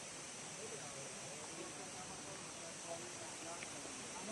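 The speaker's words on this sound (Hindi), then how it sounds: "और सब साइड छोटे छोटे झरने, वाटरफॉल्स है।" Small waterfalls along a trekking trail make a steady broadband rush of falling water, constant and moderately loud throughout with no clear breaks.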